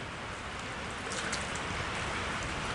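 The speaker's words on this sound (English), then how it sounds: "It has rained so much that's flooding my shop out." Heavy rain pours steadily and loudly onto a workshop that is flooding, a dense unbroken hiss of water with no voices over it.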